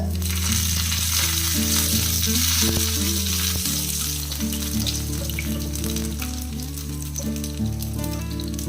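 Curry leaves crackle and sizzle in hot oil for a hotel-style Kerala fish curry, a loud, steady frying hiss close by that lasts throughout with no one speaking.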